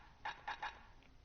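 Three short muffled chirps from an egg in the video game Bastion, evenly spaced and soft, followed by a faint higher blip.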